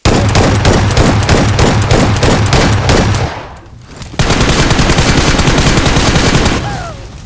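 Rapid automatic gunfire in a shooting video game rattles in loud, steady bursts, breaking off briefly before resuming just as dense and close.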